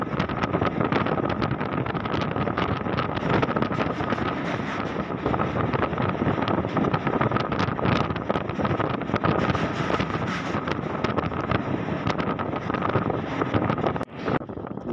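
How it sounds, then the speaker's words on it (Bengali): Strong wind rushing past a moving train beside the Godavari river, a loud, unbroken roar buffeting the microphone for the whole stretch. "খুবই বাতাস দিচ্ছে।"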